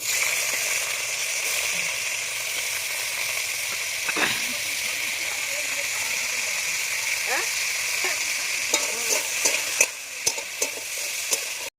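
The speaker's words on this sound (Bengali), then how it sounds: "এবার আমি ডিম আলুটা ভেজে নেবো" Egg and potato fry in hot oil in a wok, giving a continuous, fairly loud sizzle. A utensil scrapes and taps now and then, more often toward the end, and a voice is faintly present.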